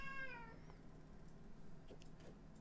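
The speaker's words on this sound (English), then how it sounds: "very unhappy cat" An unhappy cat lets out a single short, complaining meow over a low steady hum, followed by a few faint clicks.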